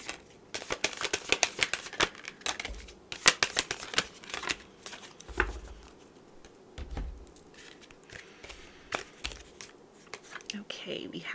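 A deck of tarot cards is shuffled during a pick-a-card reading, making quick, crisp riffling and tapping bursts in uneven clusters, close up and fairly quiet.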